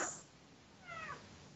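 A cat meows once, faint and fairly close, a short rising and falling cry that starts after a brief soft sound at the outset, in an otherwise quiet room.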